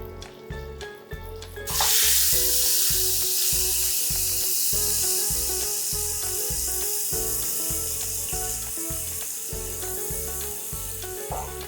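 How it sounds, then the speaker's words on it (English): Blended spice paste for nasi lemak hits hot oil with a sudden loud sizzle that settles into a steady, close frying hiss, under rhythmic music. "Okay, oil is hot. I'm going to put this blended paste here."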